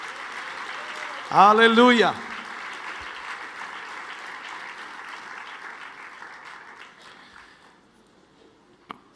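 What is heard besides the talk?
congregation applauding in church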